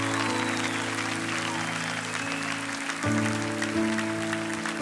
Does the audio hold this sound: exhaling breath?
no